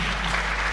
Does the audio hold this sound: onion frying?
no